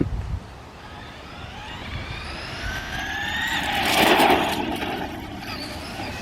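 A Traxxas Stampede 2WD VXL radio-controlled truck whines up in a rising electric-motor sweep during a burnout, swelling loud mid-way and easing off, with light background noise and no talk.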